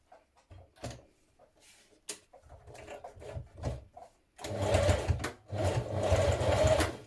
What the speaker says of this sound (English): we're going to edge stitch that in place